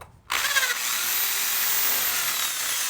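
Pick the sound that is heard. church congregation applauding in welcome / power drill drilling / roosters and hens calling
power drill drilling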